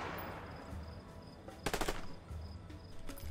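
Gunfire in the video game A Way Out, a short, fairly faint rapid burst of shots at mid-distance over low ambient background, with no voices.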